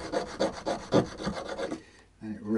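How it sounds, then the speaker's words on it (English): Hand file worked on a guitar nut while setting up a Harley Benton SC Custom, about seven rhythmic rasping strokes close up, then a pause and a brief resumption. "You can also get your file onto it if you want to."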